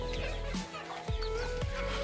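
Backyard hens cluck in short, soft bursts while pecking at fresh feed of radish, coriander and mustard leaves, against a steady low background hum.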